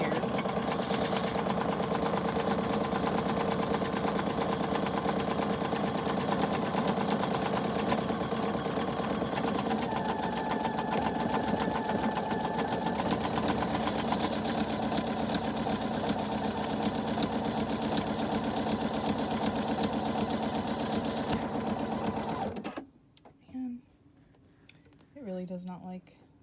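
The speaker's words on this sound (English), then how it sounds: "I can finish stitching the rest of the rectangle over here" An embroidery machine stitches a rectangle for an in-the-hoop mini backpack, running as a loud, continuous, close mechanical whir for over twenty seconds before stopping abruptly, followed by a few faint handling sounds.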